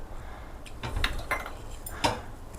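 A pan for cooking paramannam clanks onto a stove, a few short metallic knocks and scrapes close by, with no talk.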